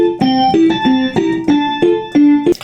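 The usual melody from the video game Will You Snail plays alone as a bright, plucky synth line of short repeated notes in a steady bouncing rhythm.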